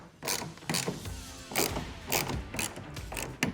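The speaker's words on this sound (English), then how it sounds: "I'm gonna take my ratchet and just tighten these down." A hand ratchet tightens the rail bolts of a WeatherTech AlloyCover hard folding tonneau cover on a RAM 1500 pickup, giving close, rhythmic clicking bursts in repeated strokes, with no talking.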